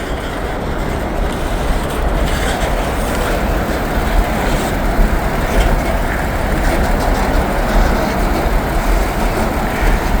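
A heavy freight train of loaded grain hopper cars rolls very slowly past, giving a steady, dense rumble with faint metallic clatter that stays continuous and fairly close, with no talking.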